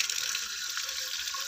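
Water from a kitchen tap pours steadily into a cooking pot for boiling eggs. The rushing, splashing gush is close and continuous, with no voices.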